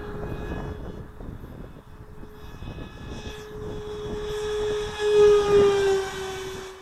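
A GeeBee RC model airplane flies in the wind, its engine a steady buzzing drone with a rising whine near the end as it passes closer, over constant wind noise and no talk.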